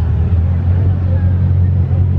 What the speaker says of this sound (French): Le vrombissement, ça fait vibrer toute la place du casino, c'est Bugatti.